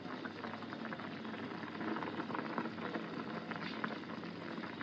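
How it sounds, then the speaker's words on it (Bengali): Steady bubbling simmer of a sponge gourd curry in a pan as fried rui fish pieces go in, a continuous soft boil with faint sizzle, close and even throughout. "এখন আমি মাছগুলো দিয়ে দিব। ভেজে রাখা মাছগুলা।"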